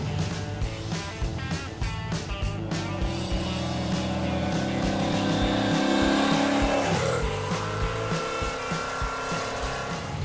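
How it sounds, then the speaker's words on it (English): A fuel-injected Chevrolet Impala accelerates at full throttle in third gear, its engine note climbing steadily and loudly up close, with a shift near the end and no talking. "All right, I'm gonna floor it third, okay?"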